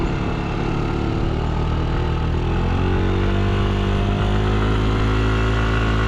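Yamaha NMAX Turbo scooter riding along, its engine a loud, continuous steady drone with no voices, close and unbroken throughout.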